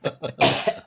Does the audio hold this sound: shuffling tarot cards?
no